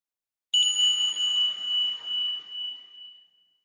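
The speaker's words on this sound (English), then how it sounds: "Then I'll ring my chimes to begin and ring my chimes to end." A single meditation chime strikes once, a clear bright metallic tone that rings out and slowly decays over about three seconds in an otherwise silent room.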